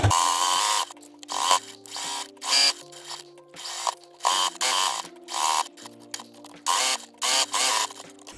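Bursts of a domestic sewing machine stitching fabric, repeated short runs of rapid whirring separated by brief pauses, close and clear with no talking.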